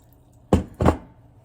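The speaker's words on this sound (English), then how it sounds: "Just take your elderberries, get the big stuff out, and then dump your water in" Water is dumped into a pot of elderberries in two quick, loud splashing pours about a quarter second apart, near and alone in a quiet kitchen.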